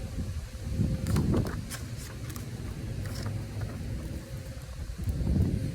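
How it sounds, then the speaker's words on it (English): Steady wind buffets the microphone in a continuous low rumble, swelling and easing, with faint scattered rustles and clicks over it. "It's a bit windy out here, so bear with me."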